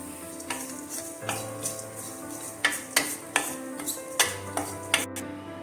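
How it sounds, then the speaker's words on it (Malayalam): Shallots, about ten small ones, sautéing in a pan over a low flame while a chicken curry is made, giving a soft steady sizzle broken by light stirring clinks and scrapes, close and fairly quiet. "ഇതിൻ്റെ കൂടെ ഒരു പത്ത് ചെറിയ ഉള്ളി കൂടെ നമുക്ക് ഇട്ടൊന്ന് ചെറു ചെറുതീയിലിട്ട് വഴറ്റി"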